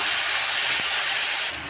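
Ginger and green chili paste hits hot oil with asafoetida in a pan, a loud, dense, steady hiss of frying that fills the clip and eases slightly at the end.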